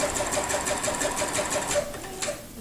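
A sewing machine quilts a piano key border with a bouncing foot, running a steady, even stitch rhythm up close with no talk.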